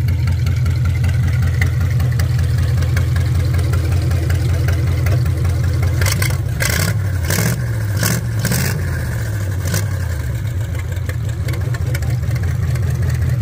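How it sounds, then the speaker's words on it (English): A 1929 Ford Model A custom roadster hot rod engine idles loud and steady up close, then a few sharp revs swell and fall back to idle before settling again. "We're gonna rev it up."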